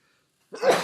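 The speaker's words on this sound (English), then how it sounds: "I'm going to sneeze." A single loud human sneeze bursts out of near silence, close and abrupt, with a sharp burst of breath and voice that tails off quickly.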